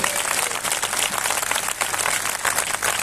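Moderately loud clapping from a church conference congregation, a steady, slightly uneven patter of many hands that continues throughout.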